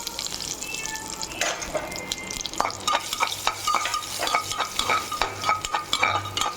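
Chopped nuts and raisins crackle and sizzle in hot oil while being stirred, with scraping and clinks of a utensil against the pan, close by.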